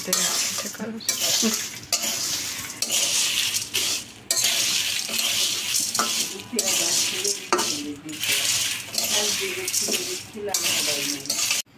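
Panch phoron and fenugreek seeds go into a pan for shahi garam masala, with busy, repeated metallic clattering and scraping close up that comes in bursts with brief pauses.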